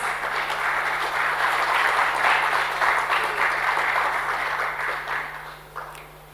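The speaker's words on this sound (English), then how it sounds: "With a big round of applause," Dense audience applause at a dairy processing conference session, a broad continuous roar of many hands clapping, fairly loud, fading out near the end with a hum in the room.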